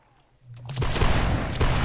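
Musket volley fire in the Whigs and Tories line-battle video game: after a brief quiet, a loud ragged crackle of many muskets discharging together, with a second burst near the end.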